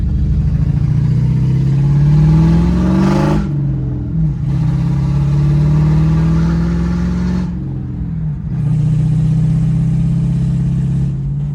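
A heavy Ford Mustang drift car without power steering, its engine revving loud and steady in three long sustained pulls that rise in pitch, with short dips between them.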